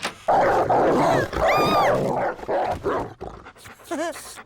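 Cartoon dogs inside a house, with a short panting, whimpering stretch alongside several voices speaking and brief tonal squeaks near the end.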